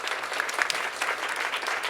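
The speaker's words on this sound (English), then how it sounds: "another round of applause" An audience applauds after a speech at a leadership event, a steady wash of many hands clapping at moderate volume, dense and unbroken throughout.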